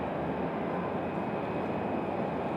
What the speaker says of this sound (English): So it looks like we're gonna have Breeze Airways coming in from Columbus, Ohio. A220-300.